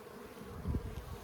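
Honeybees hum around an open hive during a beekeeper's inspection in a bee yard, a low steady droning buzz that swells briefly midway, with no talking.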